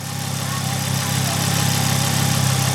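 A Mk2 Ford Focus ST engine fitted with a Turbosmart recirculation valve runs close by with a steady, loud, low droning hum that rises slightly.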